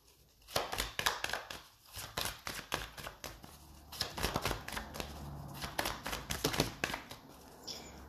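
Tarot cards being shuffled by hand, a run of quick, crisp riffling bursts with brief gaps between them, close and fairly quiet, with no talking.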